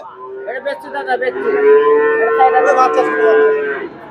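At a cattle market, a cow gives a long, loud, drawn-out moo close to the listener, rising and holding for several seconds before it fades. Market noise is faint in the background.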